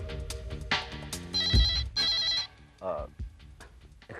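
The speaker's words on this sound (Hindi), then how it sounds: "शायद मेरे डायरेक्ट लाइन पर कोई फोन आया है।" A telephone on a direct office line rings in a few bright electronic bursts, mixed with background sound and voices.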